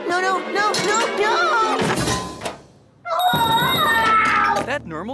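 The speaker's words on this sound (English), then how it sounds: "That Nermal's bell ringing?" A bell rings in a Garfield cartoon, a bright repeated ringing interleaved with loud animated character voices and a dull thunk.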